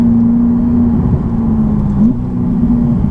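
A Ferrari 488 Pista fitted with a new Inconel exhaust holds a steady, droning engine note with a brief rising blip partway through, close and continuous for about three seconds.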